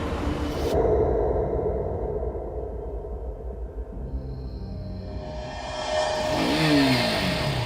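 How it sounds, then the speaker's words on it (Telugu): An old motorbike engine starts and revs, its steady motor drone rising into a louder acceleration as it rides off, with a whoosh and some clatter near the end. "తన పాత డబ్బా బైక్ తీసుకుని బయలుదేరాడు"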